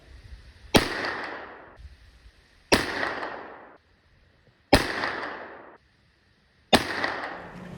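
Four rifle shots firing .499-size bullets ring out one at a time about two seconds apart, each a loud sharp crack followed by a rolling echo that decays outdoors.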